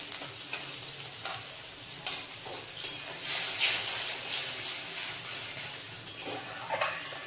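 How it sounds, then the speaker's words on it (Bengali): Whisked sour yogurt being stirred into boiling water in a pot while cooking a Bengali yogurt okra dish, a steady soft bubbling and scraping texture with a few sharper clinks, fairly quiet and without speech. "ভালো করে মিশিয়ে নেব।"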